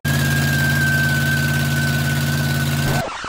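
A 1965 Ford Galaxie 500's 390 cubic inch Thunderbird Special V8 idling close by, a steady throbbing low rumble with a faint whine above, cutting off abruptly near the end.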